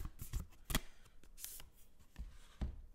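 Tarot cards shuffled by hand, a run of crisp, irregular riffling and slapping bursts, close up, with soft handling noises between them and no talk.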